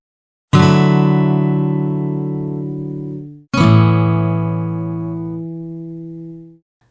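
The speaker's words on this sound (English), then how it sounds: "Add 9 chords often feel wider and more spacious than ordinary major chords." An add9 chord rings out twice, each strum sustaining clearly with a bright, open tone and fading slowly over about three seconds, clean and without talk.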